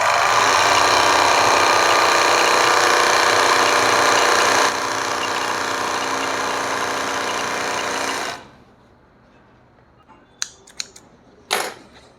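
An overlock sewing machine runs at close range with a fast, steady mechanical whir for about eight seconds, then stops abruptly, followed by a few sharp clicks and taps in near silence.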